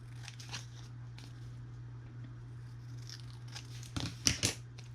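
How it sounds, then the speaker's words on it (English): Scissors snip paper to trim a handmade craft tag, soft cutting and crinkling under a low steady hum, with a louder cluster of snips near the end. "now I'll use my scissors to come back and just match up my shape"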